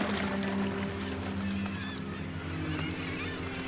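Seagulls call over a salmon river, their cries faint and scattered above a steady, loud rush of flowing water.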